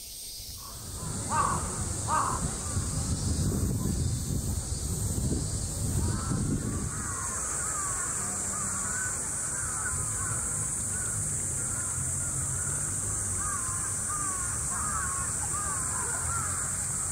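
Large-billed crows cawing in Japan, a series of harsh, carrying caws at middle distance over a constant background hiss, with louder rustling noise early on.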